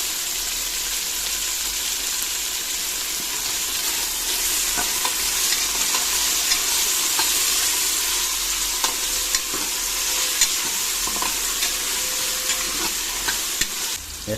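Tomatoes sizzle in hot oil for a chicken biryani base, with a spoon steadily stirring and scraping the pan; a loud, continuous frying hiss dotted with sharp clicks and no voices.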